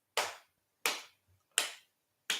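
Four sharp hand claps land at a steady, unhurried pace, close and crisp, each one snapping out and fading quickly with no voices in between.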